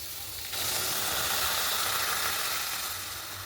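Tomatoes, ginger, garlic and dried chillies boil in water in a wok for homemade pizza sauce, giving a steady, close broadband hiss and bubbling that swells after a brief quieter start and holds without talk.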